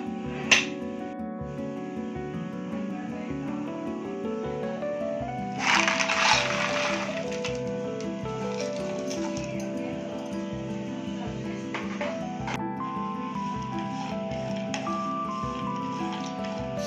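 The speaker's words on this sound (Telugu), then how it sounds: "సో అలాగా మనం ఫ్రై చేసుకోవాలండి డ్రై ఫ్రూట్స్ ని." Dry fruits fry in two spoons of ghee in a kadai, giving a soft, steady sizzle and crackle close by, under sustained background music.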